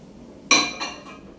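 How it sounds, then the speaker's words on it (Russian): A faceted glass tumbler of water set down inside a microwave oven, giving one sharp glassy clink followed by two fainter knocks, close and alone. "мы ставим туда обычный граненый стакан с водой"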